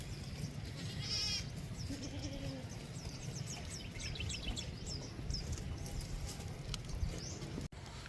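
Goats bleat in a farm goat pen, with a steady wash of ambient noise and chirping birds over the whole stretch; the calls sit at moderate distance and no one speaks.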